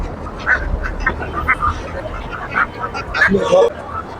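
Several domestic ducks quack in short bursts through the clip at a bird and poultry market in Safipur, Gazipur, with a busy background of people talking and market chatter.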